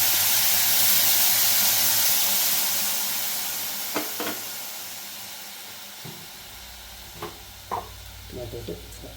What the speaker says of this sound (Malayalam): ഇതിനകത്തോട്ട് നമ്മൾ ആ കുഞ്ഞ് വേകാൻ ആവശ്യത്തിനുള്ള വെള്ളം ഒഴിച്ച് കൊടുക്കാം.